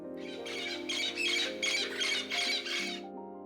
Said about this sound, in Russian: редкими звуками тропических попугаев